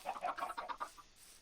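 Chickens in the Minecraft video game give a quick run of about six soft clucks close by, evenly spaced over a second, then trail off into quiet.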